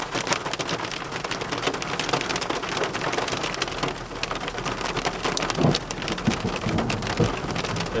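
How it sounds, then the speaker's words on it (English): Heavy rain mixed with hail pounds a vehicle during a mountain storm while off-roading, a dense continuous patter with sharper ticks of hailstones striking nearby, steady and loud throughout with no talking. "Not only is it raining, but it's hailing."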